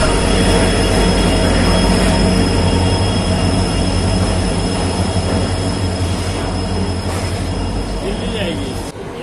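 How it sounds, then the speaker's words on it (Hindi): A WDP4T diesel locomotive from Tughlakabad shed arrives at a station on the Shalimar Express route, its steady loud rumble and rail noise with faint wheel squeal rolling continuously, easing slightly near the end. "आप देख सकते हो सामने WDP4T लोकोमोटिव आया है तुगलकाबाद का"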